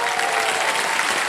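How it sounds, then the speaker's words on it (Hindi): Dense, steady applause from a studio audience at the KBC television quiz show fills the whole moment, loud and close. "तो एक बार फिर जोरदार तालियां बज जाएं"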